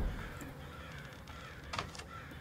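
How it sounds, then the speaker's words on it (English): Crows caw outside in a spooky house setting, a few faint calls standing out over a low, quiet background with no speech. "You hear the crows outside?"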